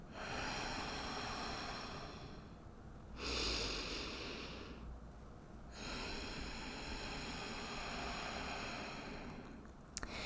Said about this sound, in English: You'll breathe in just naturally, and then breathe out, constricting the throat.